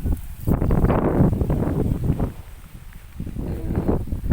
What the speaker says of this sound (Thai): อุ้ยวันนี้ ลมแรงนะท่านผู้ชม